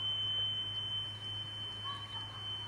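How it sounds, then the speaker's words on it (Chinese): A steady 3 kHz test tone plays from a cassette test tape on a deck with a newly replaced drive belt. The pure, even whistle holds without wavering, and a faint low hum runs underneath. "而且听着这个 3K 的声音啊也很正"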